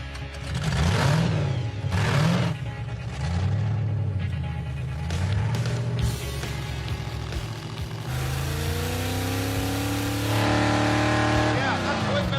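A supercharged Jeep crawling in low range, two-wheel drive, its engine droning and revving up and down in sustained harmonic tones across the whole stretch, fairly loud and steady, with faint talk.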